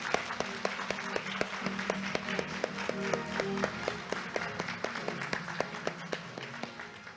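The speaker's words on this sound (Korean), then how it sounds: "곽수근 교수님을 큰 박수와 함께 단상으로 모시겠습니다." Audience applause at an accounting association conference's award ceremony as a professor is invited to the stage, steady clapping from a large hall crowd with a few sharper claps standing out.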